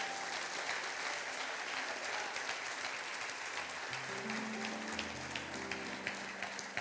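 A church congregation claps hard in a steady, dense roar of applause that fills the room, with a band starting to play underneath partway through.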